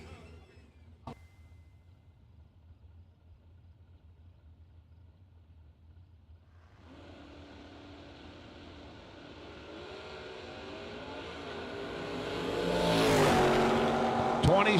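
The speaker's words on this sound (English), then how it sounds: "Garrett Griffith, 633 Dow, and Gilbert Artis in the Mustang chasing, down 574." Ford Mustang drag race car at a drag racing event launching after a quiet stretch, its engine noise building into a loud rising roar as it accelerates, with an announcer talking throughout.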